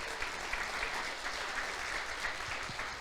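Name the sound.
congregation applauding in church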